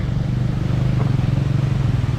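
A motorbike engine runs close by on a rough mountain trek trail toward Kalpeshwar, a steady throbbing drone with a faint rattle, heard alone.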